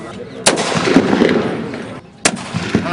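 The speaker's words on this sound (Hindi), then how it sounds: "बंदूक से फायरिंग करती आईएएस अधिकारी बी चंद्रकला" A gun fired outdoors, two sharp loud shots about two seconds apart, each cracking out above a murmur of background noise and faint voices.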